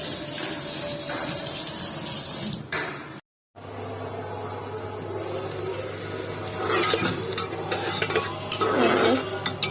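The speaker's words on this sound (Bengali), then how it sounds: "মশলাটাকে কষিয়ে নিচ্ছি" Spice masala being stirred and sautéed in a pan for a meat curry, giving a steady frying sizzle with scraping strokes that grow busier toward the end after a brief dropout.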